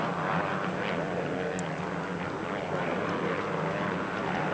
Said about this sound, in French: c'est la nouvelle Suzuki à cadre alu, la RMZ, pilotée par Kojima qui est officielle Suzuki au Japon